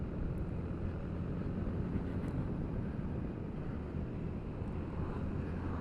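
A 2021 Honda Forza 350 scooter's engine hums steadily and smoothly while riding, a continuous low drone mixed with broadband wind rush, with no voices.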